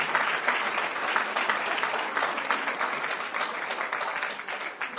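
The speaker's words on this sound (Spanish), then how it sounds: "Un aplauso a Yosef." A lecture audience on the Jewish roots of Christianity breaks into applause, with full, even clapping sustained for about five seconds at a strong level and no voices over it.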